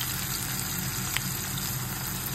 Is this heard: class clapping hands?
no